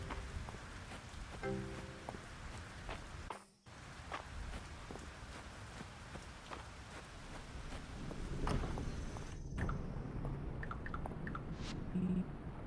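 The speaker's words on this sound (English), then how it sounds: "The rain's a bit brisk." Rain falling in a cozy farming and animal video game, a soft, continuous patter of drops with occasional light game sounds and a brief dropout, heard alone without talk.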